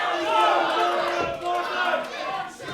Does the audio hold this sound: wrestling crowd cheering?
yes